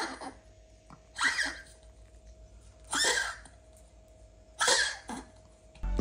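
A dog coughs in three separate harsh, hacking bursts spaced a couple of seconds apart, close by, with a faint steady hum underneath.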